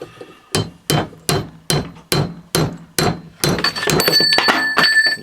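Hammer blows on a small anvil clamped in a vise during a 1970 Honda Z50 restoration, about eight sharp, ringing strikes at a steady pace, close and loud, the last few blurring into metallic clatter.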